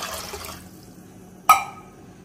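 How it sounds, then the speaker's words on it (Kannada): Water poured from a cup onto rice and moong dal in a pressure cooker: a short, close gush of liquid, then a quiet pause and one sharp splash or clink. "ಇದಕ್ಕೆ ಮೂರು ಲೋಟ ನೀರು ಹಾಕ್ತಾ ಇದ್ದೀನಿ ಇವಾಗ."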